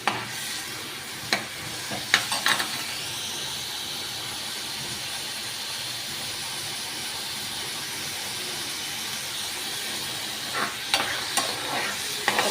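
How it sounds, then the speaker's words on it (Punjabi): Continuous soft sizzle and hiss of onions frying in ghee for a tempering, with a few scraping stirs near the start and end. "ਆਪਾਂ ਜੀ ਚੌੜਾ ਨੂੰ ਹਮੇਸ਼ਾ ਦੇਸੀ ਘਿਓ ਦਾ ਤੜਕਾ ਲਾਉਣਾ"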